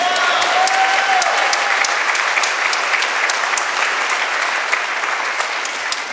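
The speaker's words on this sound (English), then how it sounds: "You can clap for that." Steady applause from an audience at a presidential inauguration ceremony, a dense wash of many hands clapping evenly throughout, with no voices over it.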